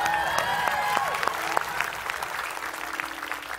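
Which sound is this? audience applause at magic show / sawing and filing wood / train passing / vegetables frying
audience applause at magic show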